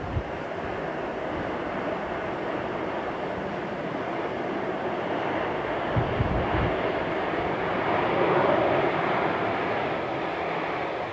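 Airliner landing at Heathrow with thrust reversers deployed, a loud steady roar of jet engines that swells slightly toward the end, broadband and continuous with no talk.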